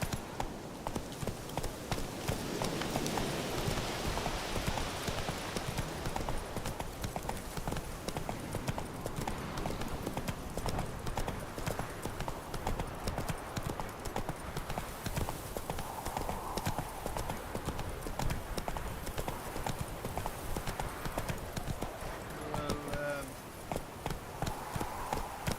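Roach the horse gallops in The Witcher 3, hooves beating a fast, continuous clip-clop rhythm for the whole stretch, with voices and other game sounds layered over the hoofbeats.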